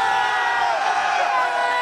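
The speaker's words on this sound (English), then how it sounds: "And the crowd fucking loves it" A large crowd cheers and roars without a break, a dense, steady wall of voices with whoops rising through it over a short stretch.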